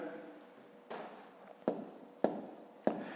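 Numbers written by hand during a fifth-grade multiplication exercise, a few quiet pen or chalk strokes with sharp taps at the end of each, close and sparse, with no talk.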